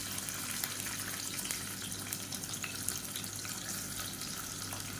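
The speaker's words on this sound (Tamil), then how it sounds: "எண்ணெய் நல்லா சூடாயிருச்சு. மீடியம் சைஸாக ஒரு வெங்காயம் சேர்த்துக்கலாம்." A medium onion sizzles in hot oil and ghee while mutton biryani is being cooked, giving a steady, dense crackling hiss that continues evenly throughout with no voices.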